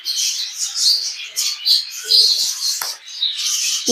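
Rainbow budgerigars chirp busily up close, a continuous stream of high twittering calls with a few sharper squeaks, and no voices over it.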